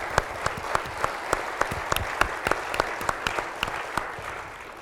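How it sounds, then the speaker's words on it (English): An audience at a university campus public forum in Duluth applauds, a moderately quiet, sustained clapping with a few sharper individual claps standing out at irregular intervals. "can we give the people here in Duluth who set all of this up a round of applause"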